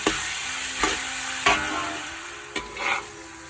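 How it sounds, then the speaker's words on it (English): Garlic and onions fry in a pan with a steady broadband sizzle, broken by a few sharp clinks and scrapes of a spatula stirring through them, close and alone. "you can add your garlic and let it fry, because the onions will continue to cook as well"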